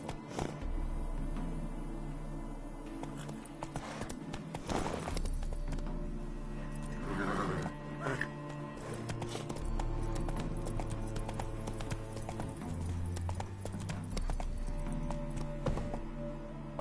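A horse ridden through Novigrad in The Witcher 3 clip-clops in a steady rhythmic trot of hooves, moderately near, over game music and ambient sounds, with no talking.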